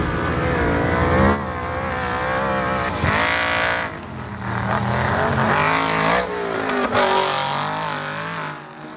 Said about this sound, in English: First car at the Finke.